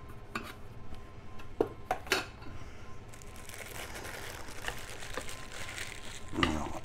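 Camping cookpot set being taken out and handled, with light metallic clinks and knocks of pots and lids, several sharp taps early on, then softer rustling and scraping, close and fairly quiet.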